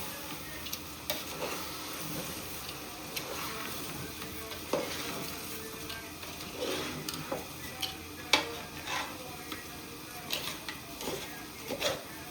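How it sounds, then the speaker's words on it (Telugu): Rice being stirred in a pot with water for village-style country chicken (natukodi) biryani, soft scraping and clinking strokes at an irregular rhythm over a low sizzling background. "దీన్ని కూడా మనం బాగా కొంచెం మిక్స్ చేసుకుంటాం."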